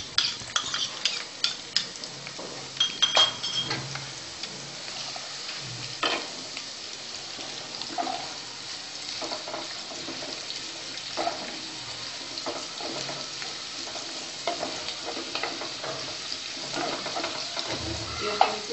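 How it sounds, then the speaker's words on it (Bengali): Chopped onions frying in oil with cumin seeds for raw banana kofta curry, giving a continuous sizzle under frequent close spatula stirs and scrapes, with occasional clinks and a splash of water. "পেঁয়াজটা একটু হালকা ফ্রাই করতে হবে"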